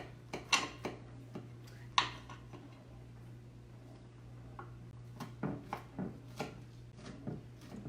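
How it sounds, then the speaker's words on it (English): A knife slices no-bake trail mix bars into pieces, producing sparse, light taps and clicks on a cutting surface, irregular and close, over a faint steady hum. "You can cut them up into bars."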